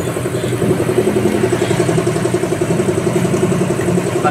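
A CF Moto 450cc adventure motorcycle runs at idle through its exhaust, a steady close rumble with a fast even pulsing throb and some mechanical clatter.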